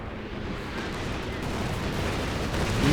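Rockets striking buildings in the video game Company of Heroes 2, a rumbling wash of blasts and impacts building slightly in loudness over a few seconds.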